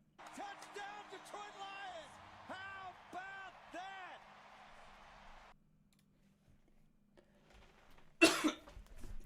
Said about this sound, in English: It was just a cough